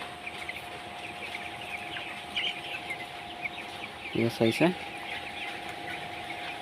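Broiler chickens in a farm shed cluck in a brief cluster of low calls over a constant fan-like hum, with faint chirps and a voice speaking briefly.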